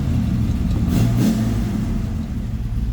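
A rebuilt 1969 Chevrolet Camaro Z28 engine with a mild cam idles with a deep, lopey rumble, swelling briefly into a rev partway through, loud and close with no voices.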